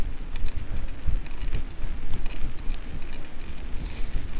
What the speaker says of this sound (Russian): Ветер, конечно, сейчас встречный.